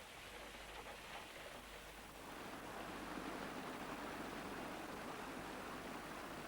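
Steady rain falling in central Wales, a broadband hiss with faint patter that grows slightly louder after the first couple of seconds, continuous and without voices.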